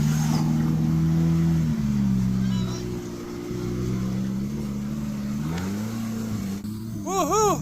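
A car's engine revs hard and steadily while the driver tries to free the stuck vehicle, the low drone rising and falling for several seconds, with voices talking over it and a brief higher whine near the end.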